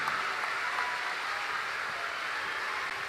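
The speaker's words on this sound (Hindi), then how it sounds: "जोरदार ताली बजा के हमारे भंडारी जी को धन्यवाद दो" Loud, dense clapping from a large crowd at a Bageshwar Dham religious katha gathering in Panchkula, Haryana, a steady unbroken wash of applause lasting throughout with no talk over it.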